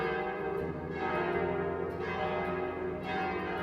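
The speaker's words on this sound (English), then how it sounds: "new bells, cast in England, went up in a tower tall enough to send out their proclamation" Church bells cast in England ring from a tall tower of St. James Episcopal Church, a rich, sustained peal with overlapping tones swelling every second or so, loud and close with no voices.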